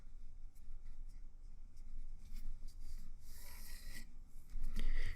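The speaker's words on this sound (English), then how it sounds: "I want to go ahead and draw a line for my vanishing point to that corner" A pencil draws a line across paper toward a corner while laying out a two-point perspective sketch. The quiet, close scratch of graphite comes in short strokes, then a longer firmer rub near the end.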